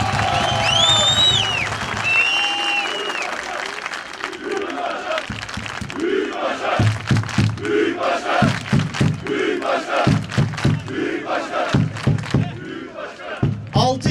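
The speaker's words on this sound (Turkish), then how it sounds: "Ona kocaman bir alkış almak istiyorum." Large audience at a Bandırmaspor club event breaking into sustained applause and cheering, with shouts mixed in, loud and steady over most of the clip; a voice speaks briefly near the start.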